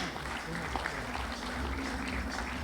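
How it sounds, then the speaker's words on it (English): A round of applause from an audience at a Bengaluru development event, moderately loud and steady, with some voices mixed in. "A huge round of applause for them, ladies and gentlemen."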